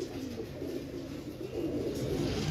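Pigeons coo softly and continuously in a loft, a low, faint murmuring burble with no talk over it.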